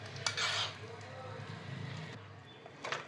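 A spoon scrapes and clinks against a pan while thick pineapple semolina sheera with dry fruits is stirred, in short bursts with a quiet voice talking.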